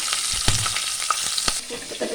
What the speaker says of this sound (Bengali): এই মাছ ভাজার তেলে আমি দিয়ে দিচ্ছি কাঁচা লঙ্কা ফোড়নে